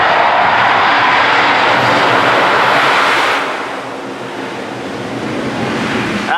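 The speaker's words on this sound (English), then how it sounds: "So we're going underneath Superman ride. You hear how loud it is." Loud, rushing roar of the Superman roller coaster at Six Flags Magic Mountain heard from underneath the ride, a broad continuous whoosh that swells and then eases off slightly.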